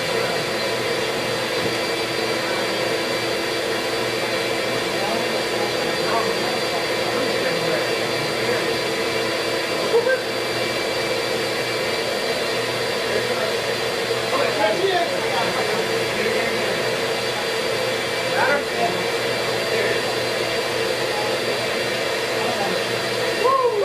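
A vacuum cleaner runs steadily for the whole stretch, drawing bees out of a hive inside a wall during a removal, its continuous whine droning beneath faint, intermittent voices.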